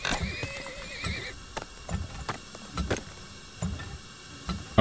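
Horses hauling oil in the game Turmoil, with repeated whinnies, neighing and clip-clop hoof clatter in an uneven rhythm, moderately loud and close with no talking.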